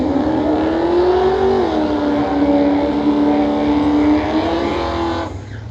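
A 2000 Holden Commodore Calais with a 5.7 litre V8 accelerates at a street car meet, its loud, sustained engine note holding steady and then rising briefly before cutting off near the end.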